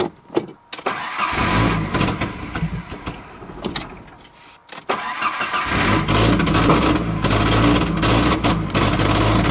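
A pickup truck running on Everclear fuel cranks, catches and starts, then struggles with uneven, roaring surges and sputters. The loud engine noise rises and dips as the truck labours to keep running, heard close up.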